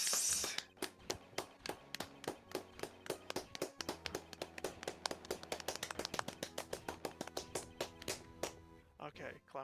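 Rapid, steady hand clapping goes on for several seconds, each clap sharp and close in an even rhythm, then stops near the end.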